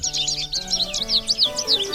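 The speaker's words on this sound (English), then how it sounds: "The American goldfinch" An American goldfinch sings a rapid series of bright, twittering chirps and tweets, close and clear with no other sounds.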